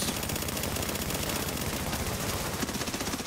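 Continuous rapid automatic gunfire in the shooter game The Division, dense and loud, rattling without pause throughout.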